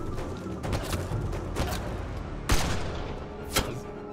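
Gunfire in the video game Mass Effect Andromeda: several quick shots crack in a loose run over a few seconds. Two louder, sharper blasts stand out near the end.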